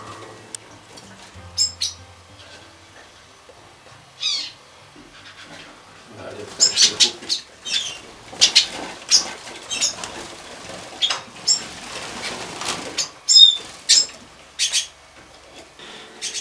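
Young Yarrell's siskins flit about an aviary with adult birds, producing soft wing flutters and brief high chirps that become busier partway through, with some faint background noise.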